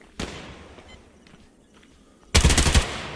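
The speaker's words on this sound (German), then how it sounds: "Ich schieße auch noch drauf." Gunfire in the online shooter Survarium: a short loud burst right at the start, a quieter stretch, then a heavier rapid burst of automatic fire near the end.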